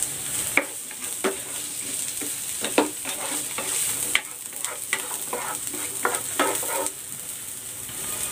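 Onion fries with garlic in a pan for Bicol Express, a steady close sizzle broken by repeated spatula taps and scrapes as it is stirred.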